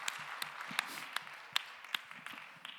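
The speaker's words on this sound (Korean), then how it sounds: "박수로 서로의 삶을 응원하며 축복합시다." Sparse, faint clapping from a church congregation at a Sunday youth service, a handful of separate sharp claps spaced unevenly, quiet and somewhat distant.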